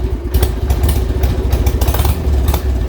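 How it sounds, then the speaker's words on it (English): A Harley-Davidson motorcycle engine idles loudly and close by with a lumpy, uneven beat, a misfire breaking its rhythm every so often over a steady low rumble and mechanical clatter. "the bike will fire right up, idle nice-ish. You hear it's got a bit of a miss, right?"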